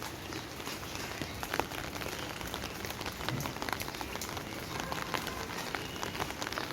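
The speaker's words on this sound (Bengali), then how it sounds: "বৃষ্টি পড়েই যাচ্ছে" Steady rain falls on a grey day, a soft, continuous patter of drops hitting surfaces nearby, heard alone at moderate volume.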